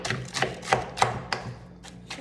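A spoon stirring ham soup with frozen potatoes in a pot, giving a series of about eight knocking, scraping strokes at a steady pace, close and moderately loud with no talking.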